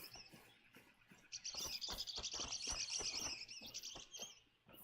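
Birds flutter and chirp in a hunting video game, a quick burst of soft flapping and rapid high twittering that swells, holds for several seconds and then fades against quiet ambience.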